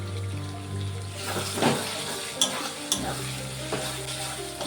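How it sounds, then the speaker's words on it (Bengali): Ground spices with Kashmiri chilli powder fry in rendered chicken fat, a close, steady sizzle broken by a few sharp spatula scrapes and taps. "এখন ভালো করে চর্বির সাথে মশলাটাকে কষিয়ে নেব।"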